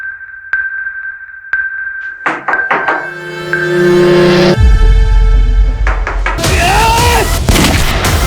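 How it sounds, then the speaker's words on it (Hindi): Gunfire erupts in a tense police hostage standoff: sharp isolated bangs come first, then a dense burst of loud cracks and rumbling chaos, followed by shouting and agitated voices. "पुलिस वाले पे गोली चला दी।"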